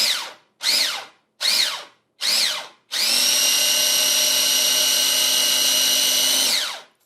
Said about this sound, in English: First, we're going to chop the herbs.